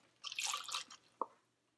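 Water poured into a cooking pan while making an instant Indian kuzhambu: a short, soft splashing rush followed by a single distinct drip, quiet and close, with no talking.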